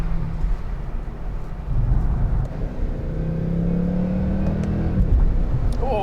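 A Mercedes-Benz C63 AMG engine barks into life and settles into a deep, rumbling idle with a slight rising rev, heard close and steady without talk.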